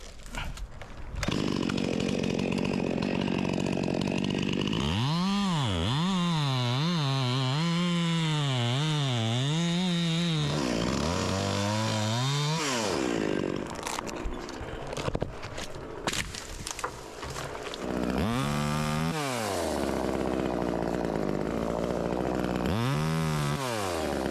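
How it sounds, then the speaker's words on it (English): A cheap Jiggly Dog chainsaw runs loud and close, its engine revving up and down in wavering pitch before idling and revving again. "This saw low-key kind of rips, man."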